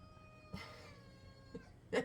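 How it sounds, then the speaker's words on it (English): Two or three short, plaintive cat meows spaced apart, fairly close, with a faint steady hum in the background. "That's the saddest meow I've ever"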